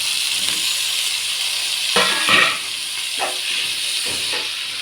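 Eggplant fries with onion and capsicum for vangi bath, a constant bright sizzling hiss with a few louder stirring scrapes near the middle, close and steady, no speech.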